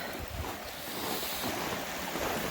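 A small river flows outdoors in winter past ice, a steady broadband rush of water with wind buffeting the microphone, no talking.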